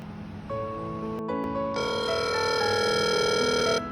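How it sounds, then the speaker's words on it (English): An OC 13 device rings with an incoming phone call, a steady electronic ringtone of sustained tones that starts after a short beep and carries on loud and unbroken for about two seconds before cutting off. "Then you will receive a phone call and text."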